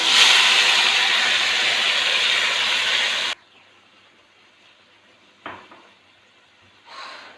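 Raw chicken goes into a pan of hot oil while cooking Peshawari chicken dum pukht, a loud dense sizzle for about three seconds that cuts off abruptly, followed by quiet with two brief faint clatters.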